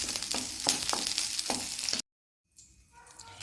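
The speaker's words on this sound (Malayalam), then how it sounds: "ഈ ഉള്ളി ഇതിലേക്ക് ഇട്ട് കൊടുക്കാം ഇനി ഇതൊന്ന് വഴറ്റിയെടുക്കട്ടെ" Chopped onions sizzle in hot oil in a pan for a traditional chutney, a loud steady frying hiss with a few sharp stirring clicks, then a brief silent gap and a fainter sizzle.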